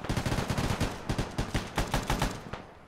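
Rapid automatic gunfire in the military shooter ArmA 3, a steady burst of closely spaced shots across the whole span, fairly loud and close, with no talking.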